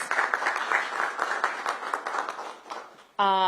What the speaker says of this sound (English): give Rahama another big round of applause